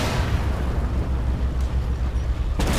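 A tank's ammunition cooking off in a video game: a dense, roaring blast with sustained rumbling and crackle throughout, ending with a sharper burst.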